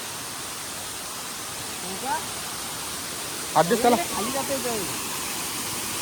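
A waterfall in a village setting, a constant broad rushing hiss of falling water filling the background, with a person briefly speaking over it.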